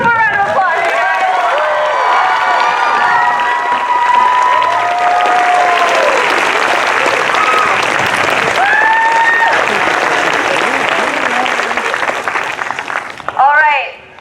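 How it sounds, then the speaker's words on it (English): Loud, steady round of applause and some cheering from a crowd at an outdoor climate strike rally, filling the whole stretch with dense clapping and scattered whoops, then a voice begins speaking near the end. "Let's give her one more round of applause."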